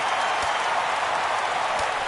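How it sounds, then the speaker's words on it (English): A crowd cheers and applauds at a ballpark in a baseball video game on PS4, a steady roaring swell that stays unbroken across the moment, with no talk over it. "Crowd gets up for the 3-2."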